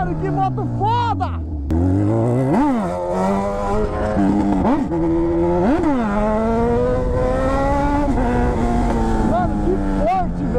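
A Honda CB1000 motorcycle revs and accelerates hard, its engine pitch repeatedly climbing and dropping through gear changes, loud and close, with people's voices audible over it.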